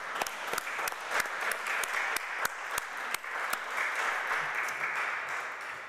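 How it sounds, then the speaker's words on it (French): Audience applause at a Christmas vigil, steady and dense throughout with sharp individual claps standing out, fairly distant and evenly sustained. "moi j'ai aussi envie de vous applaudir"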